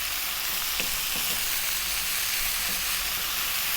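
Vegetables and cumin fry in a pot under constant stirring, giving a steady, close, even sizzle with a bright hiss throughout and no voices.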